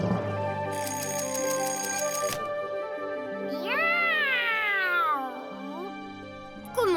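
A cartoon character's voice imitates a cat with a drawn-out, wavering meow in the middle, preceded by bright electronic tones and light music in the background.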